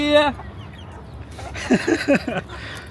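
A hen on a small egg-laying farm gives a drawn-out call, then after a pause a series of sharp, close clucks in quick succession.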